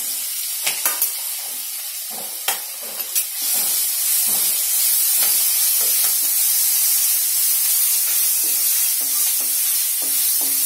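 Ginger garlic paste frying in a pan for mixed veg kofta curry, a steady loud sizzle and hiss that swells after a few sharp clinks and stirring taps, continuing strongly to the end.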